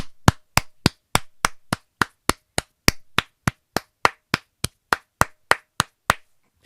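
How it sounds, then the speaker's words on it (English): Slow, evenly spaced claps ring out about twenty times in a steady rhythm, each crisp and sharp against silence, with no voices. "Give a round of applause to your friend and mine, Ryan."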